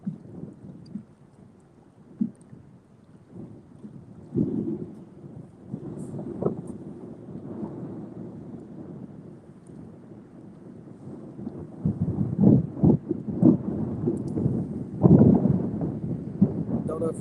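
Strong December wind buffets a microphone out fishing on Lake Allatoona as a front moves in. Low, rumbling gusts keep going, growing heavier and louder toward the end, and voices come and go beneath them.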